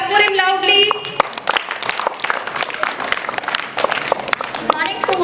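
A school audience claps for a class 4 student about to recite a poem, a dense, lively patter of many hands lasting several seconds, framed by a voice at the start and end.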